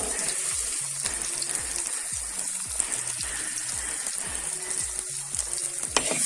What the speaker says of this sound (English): add little turmeric powder